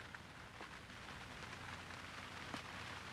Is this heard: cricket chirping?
no